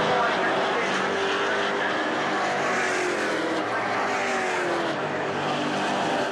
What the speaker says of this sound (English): The two racing club partner Toyota Camrys are locked in battle as Javier Villa laps them.